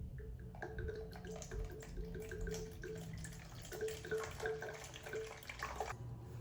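Water pours into a bowl while sourdough is being mixed, 350 grams measured out on a scale. A near, steady trickle and splash runs throughout with small drips over it, fairly quiet and without talk.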